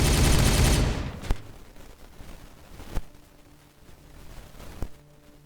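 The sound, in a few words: gunfire in the video game Warhammer 40K Regicide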